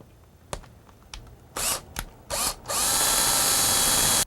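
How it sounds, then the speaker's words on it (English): A power drill bores through a greenhouse bench T and frame before riveting: several short, sharp bursts, then one loud, sustained whir close by, with no talking. "it's time to drill and rivet it in place"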